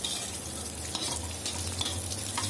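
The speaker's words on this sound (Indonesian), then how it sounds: "Kita sangrai dulu bumbu yang akan saya blender" Shallots, garlic and candlenuts dry-roast in a pan with a steady soft crackle and rustling hiss, broken by a few scraping stirs, close and moderately quiet with no talking.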